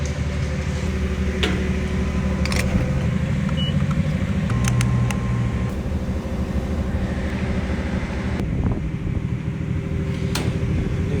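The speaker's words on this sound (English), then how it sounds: "New exhaust sounds good though." A car's new exhaust idling rich on a retuned setup at a gas station, a steady low engine drone running unbroken throughout with a few faint clicks and brief higher tones over it.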